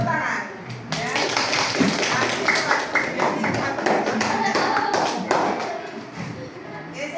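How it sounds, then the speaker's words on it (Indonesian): A group of children claps along at a class sing-along, dense rapid clapping running through the whole stretch with voices talking and calling over it. "Semuanya boleh tepuk tangan"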